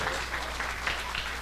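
Audience applause at a Brazilian variety show, a steady wash of clapping that holds evenly at moderate loudness for about a second and a half, with no voices over it.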